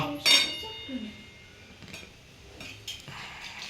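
Dishes clink and clatter nearby, a sharp metallic knock followed by softer scattered rattles and a little water, no talking.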